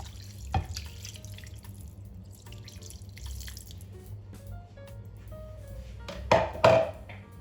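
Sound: one litre of cold water poured into a pan

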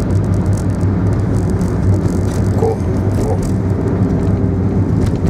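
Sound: other traffic, a car passing on the road

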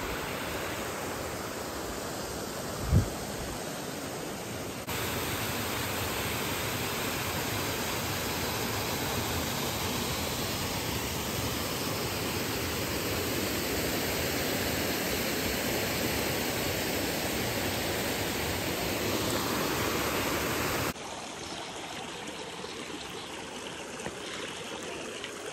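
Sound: waterfall rushing along a mountain trail

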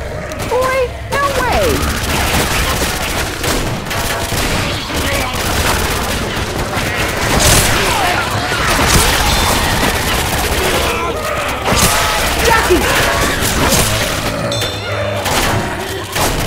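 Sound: gunfire in Counter-Strike video game, Office map

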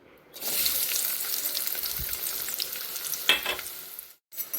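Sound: small onions frying in hot pan

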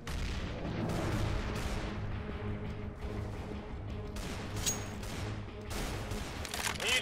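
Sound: grenade explosion in CS:GO video game

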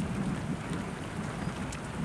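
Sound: rain in Kentucky

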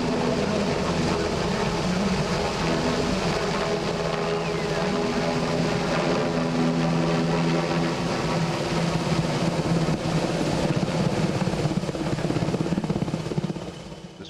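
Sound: Spanish Army NH-90 helicopter flying

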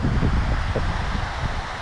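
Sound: wind blowing outdoors while fishing

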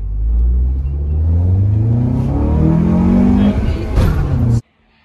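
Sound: Honda Accord Euro CL9 engine with Injen short ram intake driving

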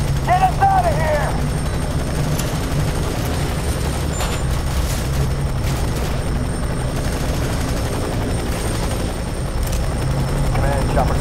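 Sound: helicopter in video game F.E.A.R. 3

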